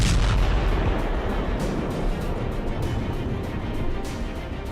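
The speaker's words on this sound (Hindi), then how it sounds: "कई रॉकेट दागे गए और भारी बमबारी हुई" Heavy bombardment and rocket fire during an air force air strike on militant hideouts in Kabul form a dense, continuous booming rumble with deep low thuds and scattered sharper cracks, steady and loud throughout.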